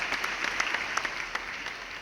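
A crowd at a design competition award ceremony claps steadily for about two seconds, a dense and fairly even patter of many hands at moderate distance.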